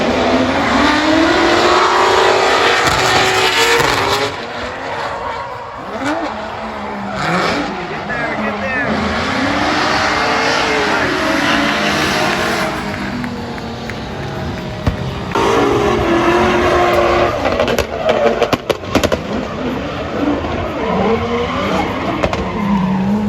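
Drift cars at a Formula Drift round in St. Louis roar and squeal their tires through smoke, with loud sustained engine revving and long skids, and a commentator talking over the continuous noise.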